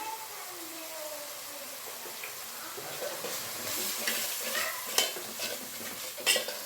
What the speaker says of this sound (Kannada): ಈ ರೀತಿ ಮೆಣಸಿನ ಪುಡಿ ಹಾಕಿ ಚೆನ್ನಾಗಿ ಟೊಮೆಟೊ, ಈರುಳ್ಳಿ ಜೊತೆ ಫ್ರೈ ಮಾಡ್ಕೊಂಡೋಣ.